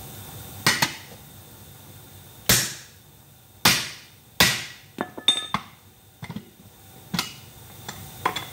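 A hammer strikes a steel wheel rim during a tire change: about ten sharp, ringing metallic blows, close and loud, in an uneven rhythm with short pauses between them.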